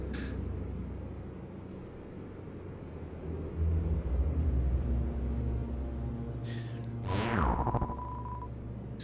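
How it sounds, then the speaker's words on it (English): A force field in the Deltarune video game powers down with a low humming drone, then a sharp descending electronic sweep that falls away and ends in a brief tone. "Sounds like a force field powering down."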